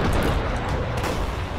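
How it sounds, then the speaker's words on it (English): Video game explosions from Eagle Island, a dense continuous rumbling blast texture with heavy low-end booms throughout, loud and sustained without pauses. "Gotta give her some explosions."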